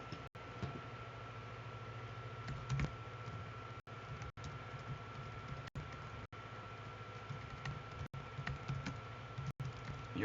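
Typing on a computer keyboard during a live World of Warcraft stream: faint, quick, irregular key clicks over a steady low hum, with a few sharp isolated clacks, and no talking.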